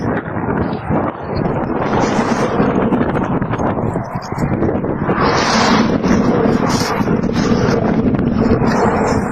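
Sandstorm wind in Kuwait rushes in a continuous, loud broadband roar that swells slightly in the second half, with no clear talk over it.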